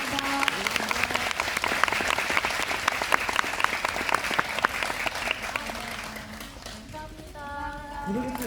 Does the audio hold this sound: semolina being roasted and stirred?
no